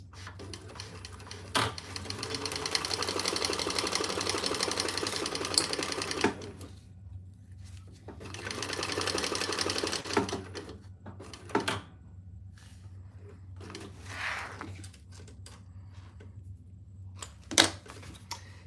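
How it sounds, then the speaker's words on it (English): A sewing machine bastes along the sides and bottom of a fabric divided basket in bursts of fast stitching, two long runs then short starts, with clicks and handling noises between. "I'm just going to baste along each side and the bottom."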